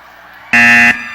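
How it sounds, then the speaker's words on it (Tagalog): A game show buzzer gives one loud, harsh electronic blare lasting under half a second, close and abrupt against a quiet room. "Masisira po yung buzzer natin."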